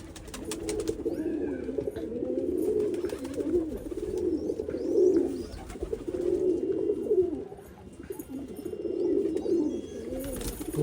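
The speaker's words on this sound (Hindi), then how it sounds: "ये देखिए नई कबूतरी थोड़ा सा भागने के चक्कर में ऐसा लग रहा है, बार बार डहना फैला के उड़ने की कोशिश में है।" Pigeons coo in low, rolling phrases that repeat every couple of seconds, close and fairly soft, while one bird tries to fly.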